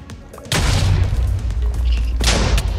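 Two loud booming explosions in a Minecraft game, the first hitting sharply and rumbling on, the second following about two seconds later, both close and heavy.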